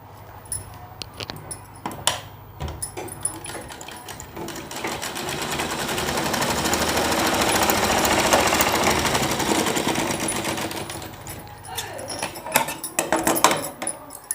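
A sewing machine stitches the double-folded waistband belt of a four-panel petticoat, starting with a few bursts and clacks, then running in a long, steady, loud whir before slowing back into short bursts.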